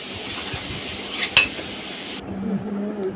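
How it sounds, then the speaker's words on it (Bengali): Chicken being stir-cooked in a pan with roasted cumin powder for a chicken curry with jackfruit seeds: faint scraping and stirring, then a single sharp metal clink of a utensil against the pan midway. "এখন আমি উপর দিয়ে একটু ভাজা জিরা গুঁড়া দিয়ে ভালোভাবে কষিয়ে নিচ্ছি মাংসটাকে।"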